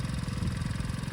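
A new motorcycle's engine runs at idle nearby, a steady rapid low thumping pulse with a slight mechanical clatter.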